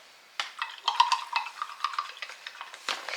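A spoon stirring rice or quinoa grains in a container, giving a fast run of light clinks and scrapes that starts abruptly and continues close and clear, no talking.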